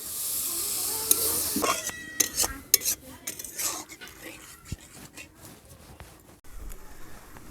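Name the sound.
water added to sizzling spice paste in pan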